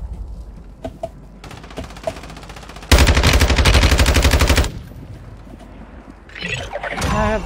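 Fortnite gunfire bursts out in a dense rapid volley lasting a couple of seconds, preceded by a few isolated clicks and shots and followed by quieter game sounds and rising mechanical noise.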